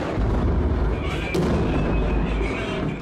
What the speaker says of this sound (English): These are Syrian government tanks in Aleppo.